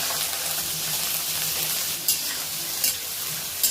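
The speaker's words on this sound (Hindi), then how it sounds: "इसे डाल लेंगे और प्याज को अच्छे से फ्राई कर लेंगे।" Chopped onions frying in a pan for a country-style chicken curry, giving a steady, close, dense hiss that runs the whole time, with a few brief spatters or scrapes near the end and no voices.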